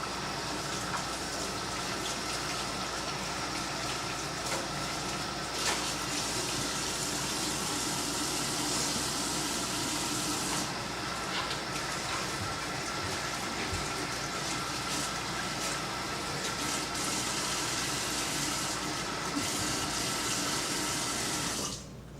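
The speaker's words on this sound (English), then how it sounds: "you want to go ahead and rinse out the inside" Tap water runs steadily into a kitchen sink, rinsing seeds out of the inside of a pepper, with a continuous close gush for the whole stretch and no talking.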